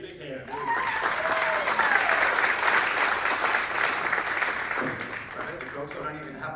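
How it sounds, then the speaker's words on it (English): A radio-show audience of the Lady Luck Trio breaks into warm, sustained applause, dense clapping close by that swells quickly, holds for several seconds and then tapers, with a voice briefly over it. "Give Mr. Ken Handy a big hand."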